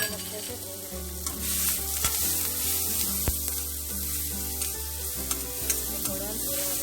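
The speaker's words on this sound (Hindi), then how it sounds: "लहसुन भी डाल देंगे और इसको अच्छे से भून लेंगे।" Garlic frying in a pan for Punjabi-style sarson ka saag, a steady close sizzle with light stirring scrapes and small pops, and no talking.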